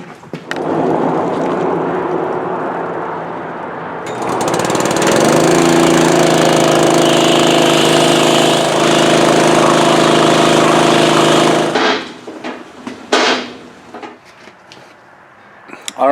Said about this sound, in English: you don't have to go crazy with the pressure washer, but you definitely want to get all that dirt and grime out of there